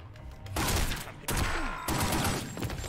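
Gunfire in a Godfather film scene, a few loud heavy bursts in quick succession, each a sharp blast trailing into roughness, close and dominant.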